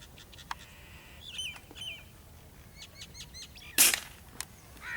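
A Diana 34 Classic airgun fires at doves outdoors, one sharp, loud crack standing out over scattered bird chirps and soft ambient noise, followed by a faint smaller click.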